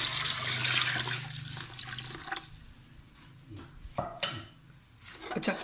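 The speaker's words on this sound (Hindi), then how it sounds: "5 गिलास पानी के डाल देंगे।" Water pours from a glass into a cooking pot of roasted flour for chicken nahari, a loud splashing gush at first that thins into softer trickles and small knocks from the pot.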